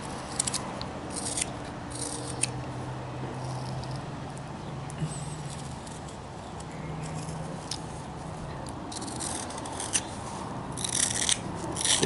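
A knife carving a wooden Amish boy figure gives steady soft scraping and shaving strokes, close up and low in level, with occasional sharper clicks and no voice.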